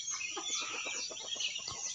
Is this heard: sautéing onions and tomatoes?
no